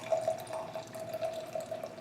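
Beer glugs and trickles steadily from a plain adhesive-labeled tin can into a glass, a soft, continuous liquid pour with faint dripping, heard close and without talk.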